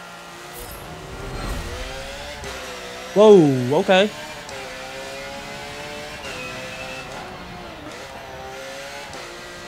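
A race car engine in the video game Forza Motorsport 7 drones with rising and falling pitch, then revs sharply in a few loud bursts while a voice briefly exclaims.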